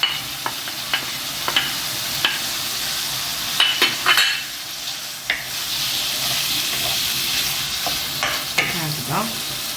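Chicken and onion frying in a pan: continuous close sizzle with repeated clicks and scrapes of stirring, steady and moderately loud, no talk.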